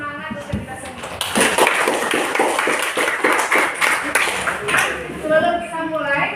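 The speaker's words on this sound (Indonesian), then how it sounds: "Oke, tepuk semangat untuk kita semua." A class of students performs a rhythmic spirit clap in an Indonesian-language classroom lesson, a run of loud, evenly timed group claps with shouted voices mixed in, ending as a voice speaks at the close.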